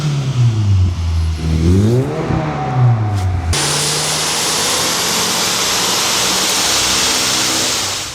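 A 2025 Subaru WRX with a 2.4 litre turbo engine and manual gearbox runs on a dyno, its engine note rising and dipping through the revs before giving way to a loud, steady roaring rush of air.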